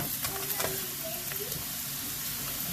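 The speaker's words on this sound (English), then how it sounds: "we just want to make sure that we stir this every once in a while so it doesn't burn" Breakfast potatoes sizzle steadily in a pan while being stirred now and then, a close continuous frying hiss with a few scraping touches and no voices.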